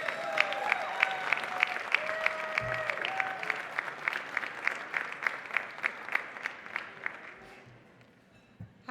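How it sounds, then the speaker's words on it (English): Audience at a benefit gala applauding steadily for about seven seconds, with a few cheers mixed in, before the clapping thins out toward the end. "A round of applause"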